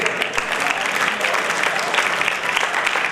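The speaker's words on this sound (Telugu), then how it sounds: "clap to your parents" An audience at a yoga competition in Basva Garden claps steadily throughout, dense continuous applause from a crowd filling the whole stretch without a break.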